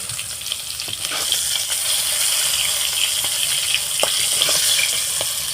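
Singi fish being lifted out of hot, sizzling oil in a home kitchen, with a continuous crackling fry, a few scraping and clinking sounds of the utensil against the pan, and no talking.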